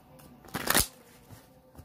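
A deck of Celtic tarot cards riffled once in a quick, crisp burst of flapping cards, close but soft, with faint quiet taps before and after.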